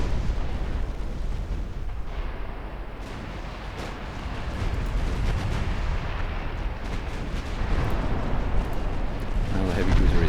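Naval guns fire in a 1945 US fleet battle against a cruiser in the warship game Ultimate Admiral Dreadnoughts, a loud, dense wall of booming salvos and rumbling blasts that rolls on without pause.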